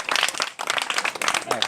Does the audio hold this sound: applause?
yes